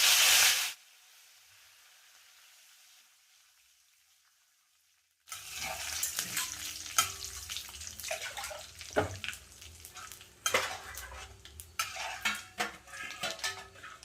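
Curry leaves and urad dal fry in a pan: a brief burst opens, then near-silence, before a loud crackling sizzle erupts with clinks and stirring noises in the pan.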